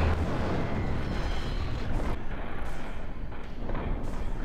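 Bombs exploding in the video game Jak II, a steady roar of deep booming blasts with a few stronger bursts toward the end, loud and continuous without talk.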